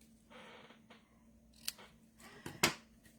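Scissors snip string to length for tying a knot on a handmade fold card, with two or three short, sharp cuts close by, the last one loudest, over a quiet room.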